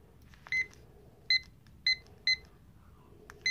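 A kitchen timer beeps as it is set: five short, high electronic beeps at irregular intervals, close and clear over a quiet room hiss, with no talk.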